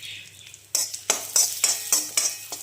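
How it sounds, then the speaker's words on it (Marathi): Ground cashews, almonds and walnuts being stirred in a pan, with a series of short scraping strokes at a steady rhythm, close and fairly clear, following a quieter start. "अक्रोड ते आपण याच्यामध्ये टाकून घेऊया आणि याला हलवून घेऊया"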